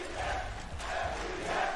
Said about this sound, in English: The crowd knows it now.